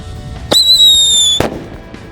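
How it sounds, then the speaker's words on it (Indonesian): Firecrackers go off inside bamboo: a sharp loud crack, a bright whistling shriek lasting about a second, then a second blast that fades quickly. "menyalakan macam-macam mercon dan petasan di dalam bambu"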